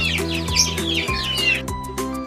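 Several breeds of prized backyard chickens cluck and call continuously, with overlapping squawks and chirps close by and no talking.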